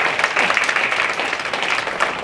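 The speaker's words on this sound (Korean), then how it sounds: "박수 부탁드립니다." Audience at a ceremony applauding steadily, a dense, even patter of many hands clapping at close range throughout.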